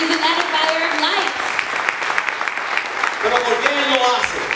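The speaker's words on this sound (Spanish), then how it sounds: "Un aplauso para Edwin." A church congregation applauds Edwin Pacheco, director of Hogar Renacer, a steady wash of clapping that runs throughout while a speaker talks over it.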